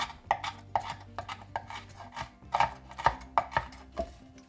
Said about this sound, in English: Give that a little chop.